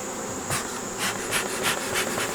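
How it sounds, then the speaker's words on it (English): Forager honey bees fly out of an open beehive, a faint steady buzzing hum with several brief louder swells as individual bees pass close by. "As you can see, there's forager bees flying out."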